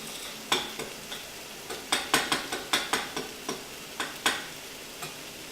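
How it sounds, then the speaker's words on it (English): A spoon stirs a pot of seafood gumbo, knocking against the pot in a quick run of light rhythmic taps and scrapes over a faint simmer, close, with no talking. "Give that a little stir."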